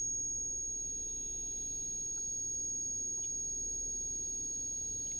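A high, thin ringing tone mimics ear-ringing tinnitus in Batman: Arkham Asylum, holding steady and piercing over a faint low hum with no other sounds.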